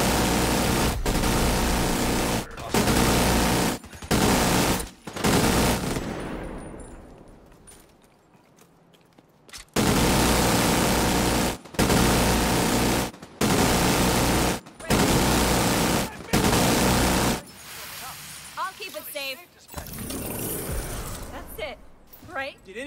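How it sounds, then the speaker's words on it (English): Heavy minigun fire in the video game The Division 2 rips out in repeated loud, sustained bursts broken by short pauses, with a quieter stretch in the middle and a game voice calling out alongside the gunfire. "Look out! Minigun! Get ready!"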